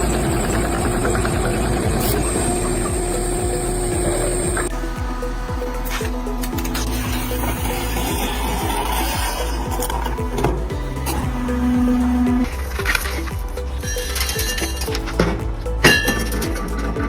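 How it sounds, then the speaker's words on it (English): Machines run in a brush-making workshop, with rhythmic mechanical clatter, metallic clinks and a steady motor hum. The machine tone shifts partway through and sharper knocks punctuate it near the end. "Work is in full swing in the brush making workshop."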